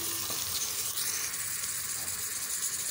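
Whole black gram dal (sabut urad) roasting in a hot pan gives a steady, close sizzle with crackling hiss throughout, alone and without talk.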